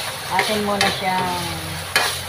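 Pork for menudo fries in its own rendered fat over a low flame while being stirred, giving a constant loud sizzle with sharp scrapes of the utensil. A person speaks over the cooking.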